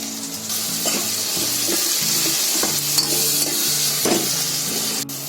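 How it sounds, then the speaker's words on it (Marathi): A spoon stirs and scrapes through a sizzling onion and tomato gravy for cluster beans and potatoes in a kadhai. Loud close frying hiss runs under rhythmic scraping strokes, with no talking. "आता आपण एकदा ढवळून बघूया"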